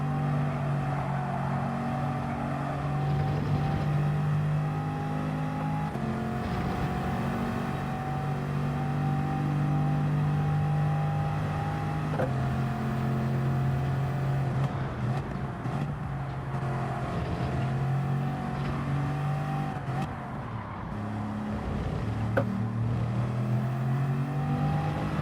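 A race car engine in a racing video game drones steadily and loudly throughout, its pitch rising and falling with gear changes as the car laps a penalty-heavy track, with no talking.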